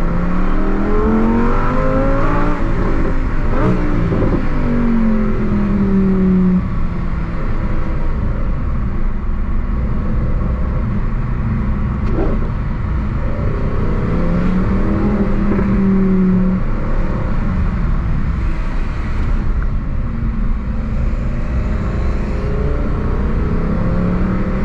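A Lamborghini Huracan STO engine revs hard, with loud rising and falling exhaust howls punctuated by sharp pops and bangs as the exhaust valves open, heard close and continuous with no talking.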